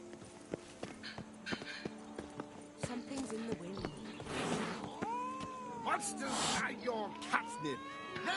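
In-game cats from The Witcher 3 meow in short, rising calls over background game ambience, with horse hoofbeats clip-clopping at intervals and someone talking intermittently across the scene.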